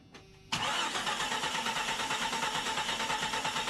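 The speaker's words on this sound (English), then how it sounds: "we're gonna crank it in. Hopefully it starts." A rebuilt 4.0 engine in a Jeep Cherokee cranks briefly with a starter whine, then fires and settles into a loud, steady running roar close by, with no one talking.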